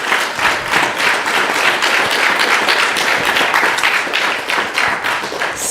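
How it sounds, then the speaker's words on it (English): A retreat audience breaks into loud, sustained applause at an evening gathering, dense clapping holding steady throughout with no voices on top. "So, a very, very big round of applause."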